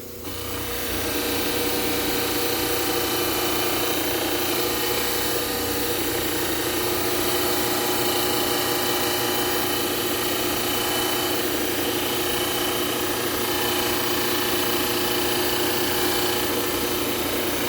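A dental model trimmer wheel grinds a plaster study model, giving a steady, loud whirring hum with harsh gritty scraping that holds constant throughout, with no voices.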